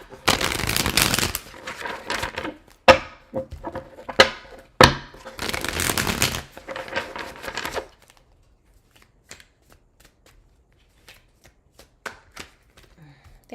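Tarot cards are shuffled up close in loud, riffling bursts during the first half, followed by a few faint taps and then near silence.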